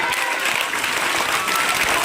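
A school audience in Banaskantha claps throughout at a magic show, a dense, steady wash of applause from a crowd.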